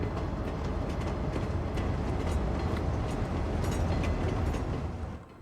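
Train passing in Cities: Skylines II: a loud, continuous rolling rumble with clickety-clack of wheels on rails, holding steady close by before fading slightly at the end.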